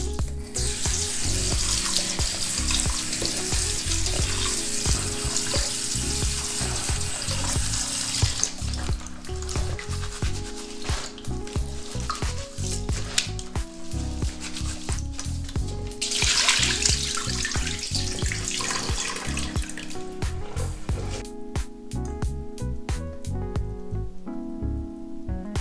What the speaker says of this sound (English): All right, we're gonna rinse it one more time.